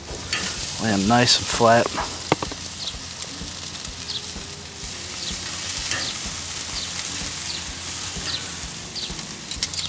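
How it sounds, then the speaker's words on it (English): Chicken wings sizzle steadily on a grill over hot coals, a loud, continuous crackling hiss that holds throughout, with someone talking briefly near the start. "I'm putting them down right over the coals"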